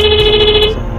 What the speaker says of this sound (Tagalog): ito yung tunog ng busina mga lods.